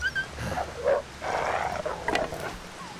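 Low growls and snarls from wolves in the survival game The Long Dark, a few rough bursts close by with breathy gaps between them.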